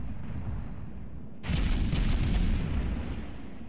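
German cruiser Königsberg firing its guns in World of Warships, a sudden deep booming salvo that cuts in and rumbles on heavily before slowly fading, with no talk.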